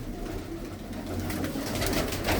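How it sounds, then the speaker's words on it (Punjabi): Pigeons coo softly and steadily at close range, a low continuous murmur of birds in a loft. "ਕਬੂਤਰ ਬੜੇ ਬੜੇ ਵਧੀਆ ਨੇ"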